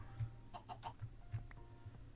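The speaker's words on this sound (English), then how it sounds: "There's a lot of chickens around here as well." Chickens in the Minecraft modpack GT: New Horizons give several soft, short clucks in an irregular rhythm, faint and low in level.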